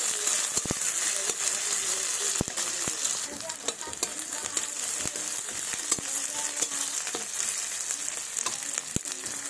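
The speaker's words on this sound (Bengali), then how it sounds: "পেঁয়াজগুলো লাল লাল করে ভাজা হয়ে গেছে" Chopped onions with black cumin seeds fry in hot oil, a loud crackling sizzle with repeated sharp scrapes and taps of a spatula as they are stirred.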